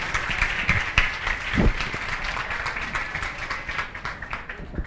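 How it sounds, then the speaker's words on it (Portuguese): An audience at an international aesthetics and cosmetology conference breaks into sustained applause for a doctor taking the stage, a dense, steady wash of many hands clapping that fills the room at moderate distance. "Vamos aplaudi-lo?"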